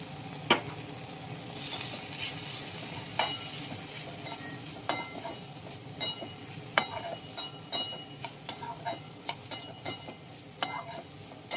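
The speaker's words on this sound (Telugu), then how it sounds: "1/2 టీ స్పూన్ ఆయిల్ తోటి ఆకాకరకాయ ఫ్రై చేసుకున్నాం మనం" Spine gourd frying in a pan with a little oil and chili powder, under a soft steady sizzle with a spoon stirring and scraping, making repeated close clicks and taps at an uneven rhythm.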